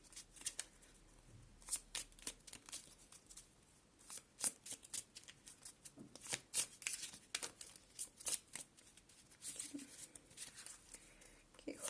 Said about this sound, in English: I'm not very good at shuffling these like giant cards